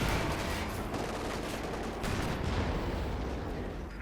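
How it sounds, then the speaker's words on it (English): Dense, continuous gunfire and explosions from a Company of Heroes 2 battle, with bazookas firing among them, a loud unbroken wash of blasts and crackle lasting the whole stretch. "firing the bazookas"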